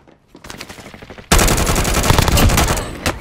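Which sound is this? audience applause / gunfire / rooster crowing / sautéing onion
gunfire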